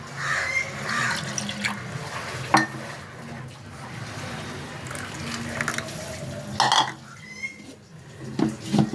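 Water trickles and splashes into a rice and lentil batter in a bowl, with uneven pours, drips and a few clinks of the container, fairly close.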